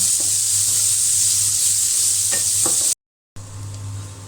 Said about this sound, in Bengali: পেঁয়াজ কুচি আর শুকনো মরিচ আমি ভালো করে ভেজে নেব।